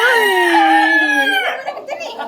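A rooster, the fourth of several backyard chickens, gives one long crow lasting about a second and a half, loud and close, trailing off into rougher clucking sounds with no talk over it.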